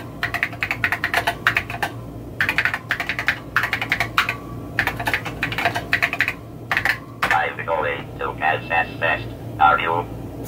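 Steady fast typing on an Apple II keyboard fitted with a Phasor speech card, the key clicks close and crisp in quick bursts, later joined by clipped synthetic speech output.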